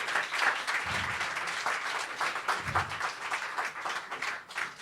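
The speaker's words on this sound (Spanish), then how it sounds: "Dale un aplauso al Señor." A church congregation applauds during a worship service, a sustained crowd of hands clapping steadily with a few low thumps beneath, continuing at an even level throughout.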